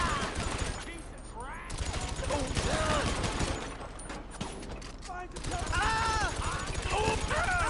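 Gunfire from shooting in the video game GTA Online: steady, repeated shots running through the whole stretch, heard under a man's ongoing speech.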